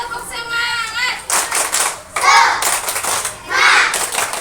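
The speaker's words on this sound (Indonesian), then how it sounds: "Coba tepuk semangat dulu, tepuk semangat." Schoolchildren in an Indonesian classroom perform a rhythmic spirit clap, bursts of patterned clapping alternating with chanted children's voices, loud and close.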